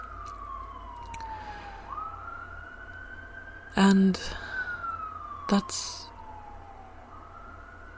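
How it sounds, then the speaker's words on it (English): An ambulance siren wails outside, its rising and falling sweeps passing by at moderate distance behind a man's brief speech and a few sharp bumps near the microphone. "An ambulance just drove by."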